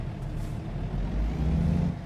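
Volvo VNL 780 high-rise sleeper truck engine in American Truck Simulator, a steady low diesel rumble that swells slightly and holds, with a brief air-brake hiss near the start and no talk.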